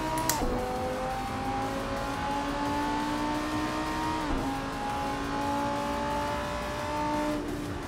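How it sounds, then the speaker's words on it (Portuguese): A GT3 race car lapping the Spa circuit in a racing video game, its engine droning loudly and steadily close up, with pitch climbing through the gears and dipping at a couple of shifts. "Vamos lá andar com o carro GT3 agora."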